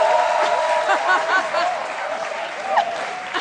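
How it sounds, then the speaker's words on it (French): A TV studio audience applauds, continuous mixed clapping with high voices and chatter over it, fairly loud throughout. "On applaudit très fort, les filles."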